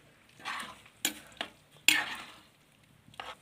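A ladle stirs fish curry with tamarind in a cooking pot, giving soft scraping swishes with a few sharper clinks against the metal at close range, no voices.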